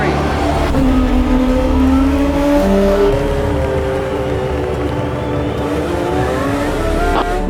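Race cars accelerating hard in a Grand Prix chase scene, loud sustained engine whine with rising and shifting pitch as the cars rev, close and continuous throughout.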